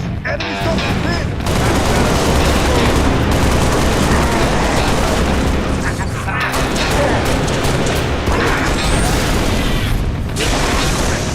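Heavy, sustained video game gunfire: a loud, unbroken wall of rapid automatic shots and booms that barely lets up, with brief gaps and voices calling out over the barrage.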